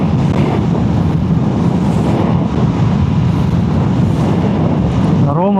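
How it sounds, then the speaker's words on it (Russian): On a motorcycle ridden through rain, heavy wind roar and the rush of wet air fill the sound from start to end, loud and unbroken, with a rising engine tone near the finish. "Ветер, дождь."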